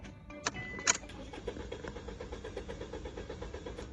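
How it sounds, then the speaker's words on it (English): A car engine cranks without catching, a rapid even chugging of the starter after a couple of clicks, fairly quiet and close with no talk. "Crank the engine."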